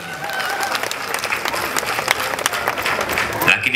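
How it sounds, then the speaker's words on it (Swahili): A crowd at a CCM political rally in Tanzania breaks into sustained applause, dense and steady throughout, with some cheering mixed in. "Makofi kwa CCM na serikali ya Rais Samia."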